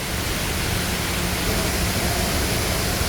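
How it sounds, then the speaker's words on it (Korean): Three waterfalls pour at once into a pool along a trekking course, a steady broadband rush of falling water that stays even and continuous from start to finish, with no voices. "웅장한 폭포수 소리와 함께 멋진 장면이 펼쳐집니다"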